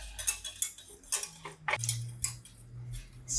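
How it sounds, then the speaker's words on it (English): A whisk works white miso paste into a glaze mixture for lamb chops, with quick scraping and light metallic taps against a bowl, close and fairly quiet. "you add 4 tablespoons of white miso paste into the mixture. Most important, whisk away"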